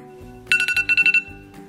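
An oven timer going off after 20 minutes of baking a Bruder cake at 160 degrees: a bright electronic beeping in a quick run of about seven pulses over a low background hum.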